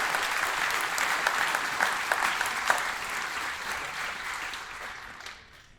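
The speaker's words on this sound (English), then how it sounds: "let's give a big round of applause for all those incredible people" A large crowd at a champions tribute event gives a big, sustained round of applause, a dense wash of clapping that holds steady, then fades away at the end, with no speech over it.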